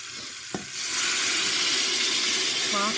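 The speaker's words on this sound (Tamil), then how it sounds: "நல்லா கத்திரிக்காய் வந்த மாதிரி ஒரு பரட்டு பரட்டிட்டு" Eggplant sautéing in a pan for a tamarind curry, a sudden loud sizzle and hiss of frying that starts after a brief clink and stays steady, with a short stirring scrape near the end.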